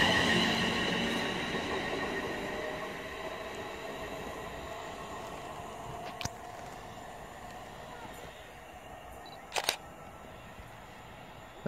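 Class 380 electric train on the East Coast Main Line at Prestonpans station, its fading rumble and wheel hiss dying away, followed by a couple of sharp clicks and a quiet platform.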